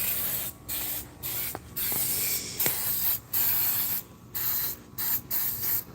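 Bursts of pressurized spray hit driveway concrete as cleaner is applied, coming in repeated hissing pulses of about half a second to a second with brief gaps, fairly loud and close, with a few faint clicks of the sprayer between.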